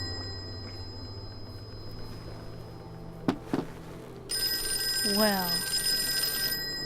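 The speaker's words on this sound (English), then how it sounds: "let's answer that annoying phone" An old telephone rings in the Call of Cthulhu video game, a steady bright trilling ring with a brief sliding whoosh in the middle, following a couple of sharp knocks and a spoken word.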